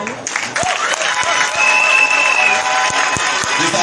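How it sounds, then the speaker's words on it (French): Crowd applause at a donation ceremony as mothers in the audience clap for themselves, lively clapping with some cheering and a sharp whistle, voices mixed in. "Je voulais demander à nos mamans de s'applaudir."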